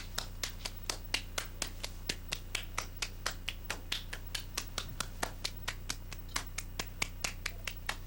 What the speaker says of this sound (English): I'm gonna clap my hands and move them around